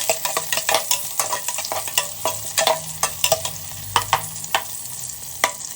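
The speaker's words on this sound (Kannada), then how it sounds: "ಸ್ವಲ್ಪ ಲೈಟ್ ಬ್ರೌನ್ ಆಗುತ್ತೆ ಅಲ್ಲಿ ತನಕ ಫ್ರೈ ಮಾಡ್ಕೋಬೇಕು ಈರುಳ್ಳಿನ." Onions and curry leaves fry in about three tablespoons of oil, a steady sizzle broken by repeated sharp scrapes and clinks of a stirring spoon against the pan, close up with no talking.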